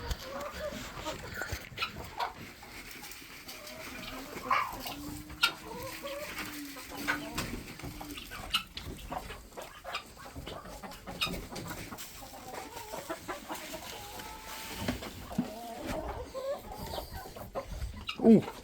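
Chickens cluck and murmur steadily in an outdoor chicken run, a flock of fowl close by with irregular soft calls and occasional louder squawks, alone without talk.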